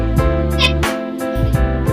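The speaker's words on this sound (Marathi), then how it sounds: "आता हे मी मिक्सरला वाटते." A mixer grinder grinds cooked moong and masoor dal with tomatoes, its motor giving a steady, loud droning whine that cuts out briefly mid-way and then starts up again, in pulses.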